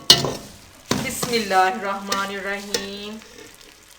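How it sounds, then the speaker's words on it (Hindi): Semolina halwa with sugar syrup stirred with a spoon in a hot pan, sizzling and scraping close by, mostly under a person speaking in a drawn-out, chant-like voice. "चम्मच की मदद से अच्छे से इसको हम मिक्स कर देंगे।"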